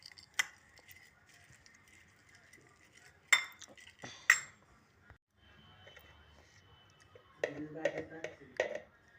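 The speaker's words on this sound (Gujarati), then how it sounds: "હવે આપણે આમાં નાખશું થોડી ચણાની દાળ અને હવે આપણે એને મિક્સ કરશું" Spoon or utensil clinking against a bowl while chana dal is mixed with chopped raw mango, giving a few sharp clinks and soft scraping stirs spread across the stretch, fairly close, with quiet pauses between.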